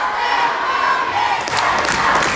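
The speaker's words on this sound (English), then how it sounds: "Crowd is going crazy." Crowd at a varsity boys basketball game in Couch, Missouri roars and shouts loudly and continuously in the closing seconds of a close game, close and dense, with no single voice standing out.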